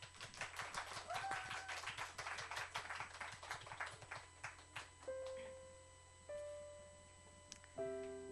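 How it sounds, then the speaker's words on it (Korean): A church congregation claps for a woman coming forward to give her baptism testimony, a moderately close, uneven patter of hands for about five seconds before soft sustained piano notes take over. "우리 박수로."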